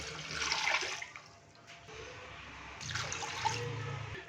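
Water is poured from a glass into beef in a cooking pot, two separate splashing pours, the second steadier, fairly quiet and close.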